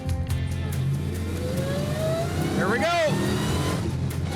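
A restored classic car engine pulls hard as it accelerates up to about 70 mph, its steady roar rising in pitch through the gear, loud and close from inside the cabin, with a brief spoken remark at the start.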